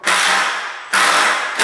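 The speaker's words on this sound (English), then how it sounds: "Well, I sure am thankful for my impact driver." An impact driver drives a screw into timber for garage shelving, hammering in loud, close, rattling bursts that stop briefly and start again twice.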